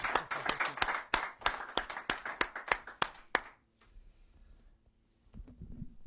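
Audience applause at a Christmas show, a quick run of sharp, distinct claps from a small crowd that stops abruptly partway through, leaving quiet room tone and a faint thump.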